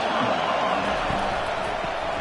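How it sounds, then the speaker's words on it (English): A stadium crowd in the Madden 24 American football video game roars loudly and steadily, a thick wall of cheering with faint thuds underneath. "wow, listen to this crowd noise. This stadium is vibrating."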